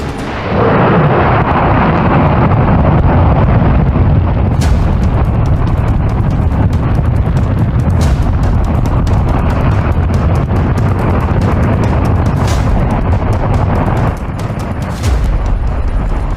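A J-2X rocket engine roars through a long static test firing at lower power, a loud, continuous, thundering broadband rumble with crackling bursts that holds steady for the whole stretch, with no voices.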